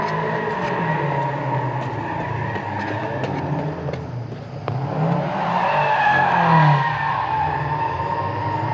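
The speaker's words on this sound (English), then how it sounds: "Someone's doing donuts." A car doing donuts somewhere out of sight, its tires skidding and squealing in long sustained slides over a steady engine roar, the screech swelling louder toward the end.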